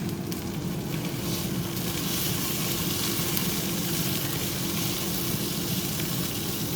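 Broccoli cooking in a lidded pan over low heat gives a steady, continuous soft sizzle and hiss, unbroken and fairly quiet throughout, with no voices over it.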